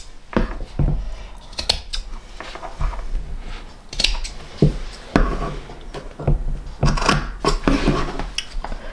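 Scissors snipping through fabric pieces for a sewing project, a string of crisp metallic clicks and slicing snips at close range, uneven in rhythm, with light handling clatter between cuts.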